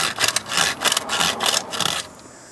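Sandpaper scrubs by hand around the rear wheel bearing hub of a 2013-2017 Honda Accord, giving about five quick, rhythmic rasping strokes close up before stopping.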